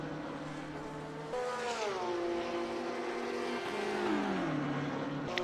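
Audi and BMW GT3 race cars circulating at Spa-Francorchamps, engines revving loudly with rising and falling pitch through gear changes, steady and close for the whole stretch.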